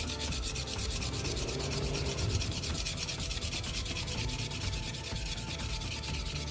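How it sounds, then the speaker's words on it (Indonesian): Hand sanding with sandpaper to smooth off dried G glue, a continuous close rough rubbing with rhythmic strokes and no talking. "saatnya kita amplas."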